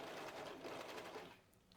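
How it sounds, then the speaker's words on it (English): A Brother Lock 1034D overlocker stitches a sweater neckband in a short, fast mechanical burst that runs about a second before slowing and stopping. "So now I can go back to the overlocker,"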